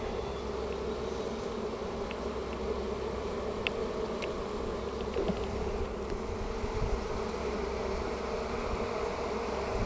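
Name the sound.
honeybees buzzing loudly during hive inspection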